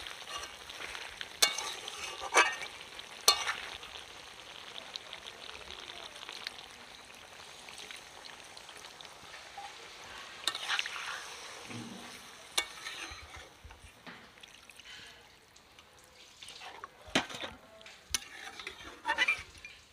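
Village-style country chicken curry cooks on high heat after water is added, a soft bubbling sizzle broken by occasional stirring scrapes and utensil clinks.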